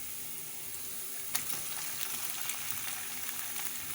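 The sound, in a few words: chicken mince frying with onions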